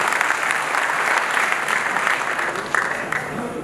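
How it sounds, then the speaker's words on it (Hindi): Audience at a national seminar in an auditorium claps steadily to welcome a speaker, dense even applause throughout without a break. "आप एक ताली बजा कर स्वागत करें।"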